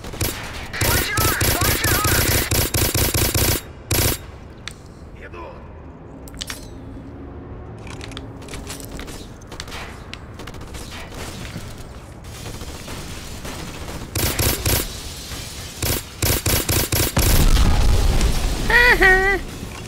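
Gunfire and grenade blasts in the shooter game Black come in loud bursts of rapid automatic fire separated by quieter stretches of clinks and shuffling, with a final heavy rumbling explosion near the end.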